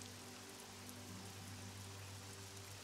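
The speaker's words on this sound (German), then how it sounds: "Es regnet, die Sonne ist nicht da." Steady rain falls continuously, a faint even hiss of drops with a low constant hum beneath, no voices present.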